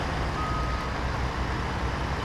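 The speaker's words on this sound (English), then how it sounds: "I can hear the beeping sounds" Truck reversing beeps in SnowRunner, a thin steady tone over a loud constant engine rumble and road noise throughout, with no talk.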